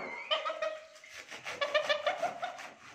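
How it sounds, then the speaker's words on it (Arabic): Geese honk and call repeatedly while being fed fresh clover cut with a serrated knife, the nasal calls close and overlapping in short bursts. "شوفوا الوز بيحب البرسيم ازاي"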